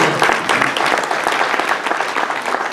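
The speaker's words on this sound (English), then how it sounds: "I want to have a round of applause for the audience." Dense audience applause at a mayoral candidate forum, many hands clapping at once, loud and sustained through the whole short stretch.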